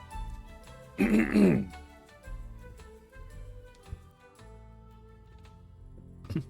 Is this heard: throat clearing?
yes